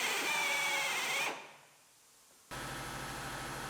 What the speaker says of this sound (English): Now we can start drilling our cab corner off of our driver's side.